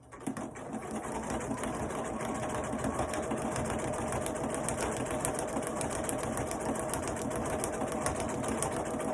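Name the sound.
sewing machine running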